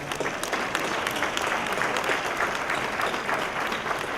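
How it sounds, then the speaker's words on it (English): An audience at a scholarship luncheon breaks into applause, a dense, steady clapping that fills the room for the whole stretch without pause. "I'd like to give you a round of applause."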